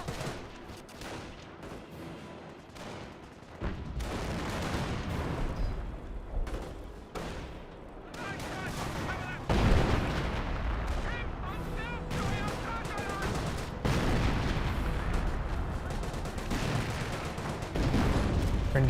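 An artillery barrage in Company of Heroes 1, a rapid jumble of booming shots and gunfire bursts that grows denser and louder toward the end, with a commentator talking over it.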